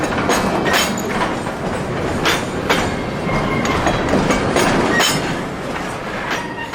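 A long freight train hauling trailers, 53-footers and shorter 28-foot ones, creeps out of the yard at about ten miles an hour, wheels clicking and clattering steadily with faint squeals, loud and continuous.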